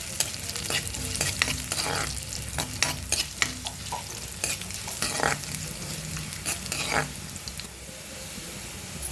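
Cashew pieces fry in hot oil in a pan for atukula poha, with a steady sizzle and repeated scraping strokes as a spoon stirs them, close and fairly quiet.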